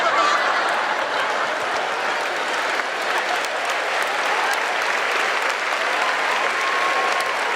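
Loud, sustained applause from an audience, a thick, steady wash of many hands clapping at once that carries on unbroken for several seconds, close and full, with a few faint cheers mixed in.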